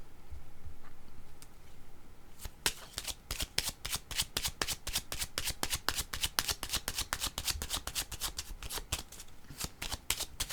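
Tarot cards are shuffled in a rapid, steady flutter of crisp slaps that starts after about two and a half seconds of near quiet and continues close and clear to the end, with no talking.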